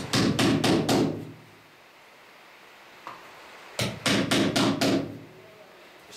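Hammer driving nails to fix a flag onto a wooden boat bulkhead, two sharp bursts of four or five rapid close blows separated by a quiet pause.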